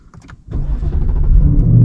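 A 2026 Ford Mustang GT with its 5.0 V8 cranks and fires up, a brief starter whir and key jingle giving way to a loud, deep, steady idle rumble close by.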